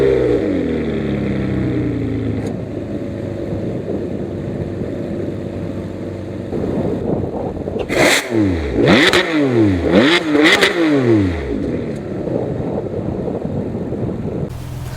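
A 2008 Ferrari 599 GTB Fiorano engine idles steadily, then gives several sharp, close revs in quick succession, rising and falling before it settles back to a steady hum.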